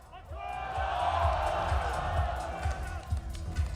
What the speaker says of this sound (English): Guys, really cheer it out here.